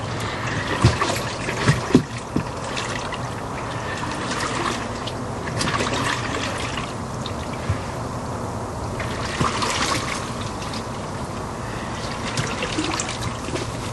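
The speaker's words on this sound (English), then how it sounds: "I'm gonna stir it up and see how hot it actually is." Water sloshing and trickling as a hot mud tub is stirred, a continuous close wash of liquid movement with a few sharper splashes.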